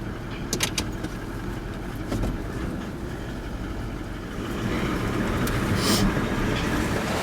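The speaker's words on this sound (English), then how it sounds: "I'll give her a little rev as we go" An off-road 4WD at a big water crossing in Cape York, its engine a loud close rumble that swells louder in the second half as it is revved, with water washing and splashing around it.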